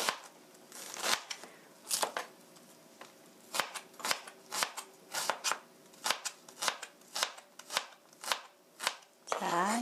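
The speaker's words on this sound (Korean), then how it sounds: "양파는 이렇게 썰었고요" A knife chops onion on a board in quick irregular strokes, each a crisp close tap, continuing steadily through the stretch.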